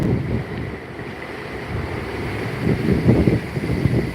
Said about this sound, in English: The wind's blowing by.